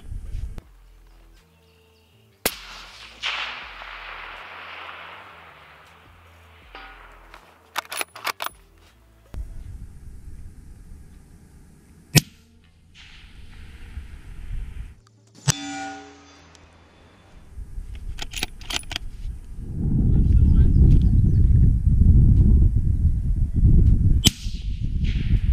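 Long-range rifle fire at a steel target 1,000 yards away outdoors, heard as several sharp, separate cracks and metallic clangs spread across the stretch, with wind rumble building toward the end and no talk.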